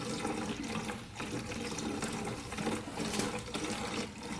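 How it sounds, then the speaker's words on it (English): Fluid drains from a Quadzilla Banshee 500cc quad, a steady close splashing trickle of liquid pouring into a container with no one talking. "You can hear it draining."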